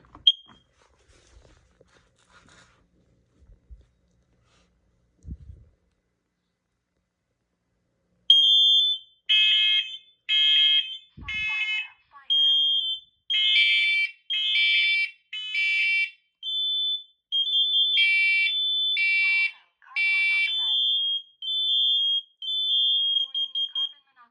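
An IBA carbon monoxide alarm on a demo board starts after a few quiet seconds of faint knocks, then sounds loud repeated high beeps in uneven bursts with brief pauses, close by.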